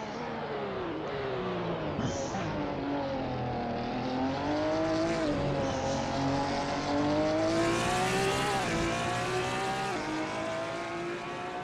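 Race car engine in a racing video game lapping Spa on an out lap, a loud sustained engine note rising and falling through the gears with steady revving and a few shifts, heard alone without talk.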